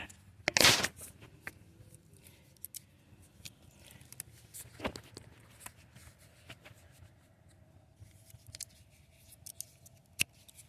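Garlic plant stems being cut by hand in a garden, with one sharp snip followed by a few faint scattered clicks and rustles in near silence.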